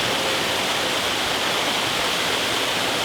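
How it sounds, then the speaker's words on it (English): A waterfall roars as a steady, dense rush of falling water, continuous and unchanging, with no voices over it. "try to get a better look at this waterfall"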